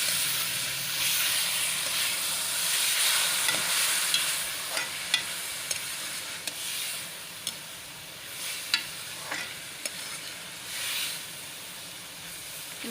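A paste of green chillies and onions fries in a pan, a steady soft sizzle and hiss broken by faint scraping stirs and small pops.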